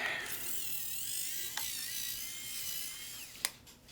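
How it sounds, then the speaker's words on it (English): A small powered screwdriver backs out the drive tray screws on a Dell Inspiron 15 5378 laptop, giving a close, steady high whirring with a shifting pitch, broken by brief clicks. "Get yourself one of these powered screwdrivers."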